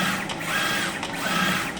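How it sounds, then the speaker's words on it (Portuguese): Photo printer running a test page at high resolution, its print head shuttling back and forth in a steady mechanical whir with regular pass-by pulses, close and moderately loud. "Essa impressão aqui, ela está imprimindo"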